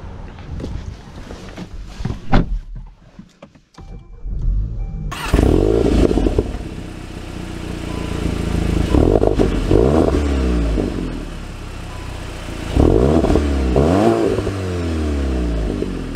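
A 2024 VW Golf GTI Autobahn with a manual gearbox pulls away and accelerates, its engine note rising and falling through repeated surges as gears change, loud and continuous inside the cabin after a quieter start.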